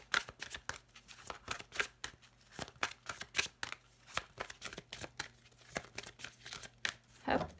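A deck of tarot cards being cut and handled, with a run of quick papery slaps and riffling shuffles, close and crisp, in an uneven rhythm with a few louder snaps near the end.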